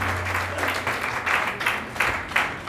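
Audience clapping fills a library inauguration hosted by the Vankar Seva Sangh in Chandkheda, a sustained burst of applause from a gathered crowd with slight swells, close and loud throughout.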